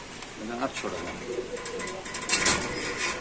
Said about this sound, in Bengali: খুব সুন্দর মাসাল্লাহ কবুতরগুলা